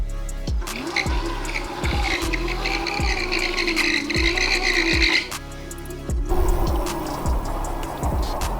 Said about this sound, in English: I'm gonna do a burnout real quick to get these tires warmed up